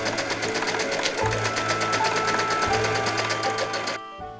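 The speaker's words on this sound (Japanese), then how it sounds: "前後の襟を重ねてギャザーミシンをかけよう。" A sewing machine runs fast and steady, gathering stitches across the overlapped front and back collar of a cheap-fabric dress, with a brief pause and a stop near the end.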